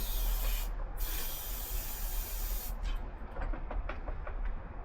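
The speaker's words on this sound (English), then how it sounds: "I always give it a bit of ether to get it going" Ether starting fluid sprayed into a scooter engine's intake gives a steady, close hiss lasting a couple of seconds, with a brief break, then fading to faint clicks and rustles.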